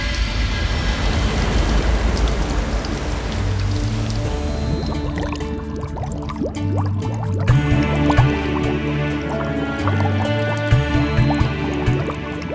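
Water splashes and trickles as a glowing fish is lowered in, a dense dripping, bubbling wash with ringing tonal music layered underneath, fairly loud throughout.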